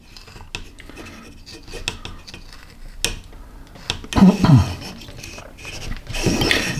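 A hand carving tool scrapes and digs into wood, roughly an eighth of an inch deep, while a Frankenstein figure is carved; soft rasping strokes build to louder, rougher gouging bursts near the end.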